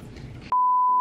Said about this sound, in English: Censor. Beep.